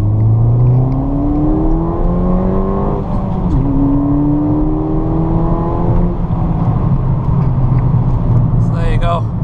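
A Ford Fiesta ST180 accelerates hard on a road test, its engine rising through the gears in repeated sweeps, loud and close inside the cabin, with speech over it.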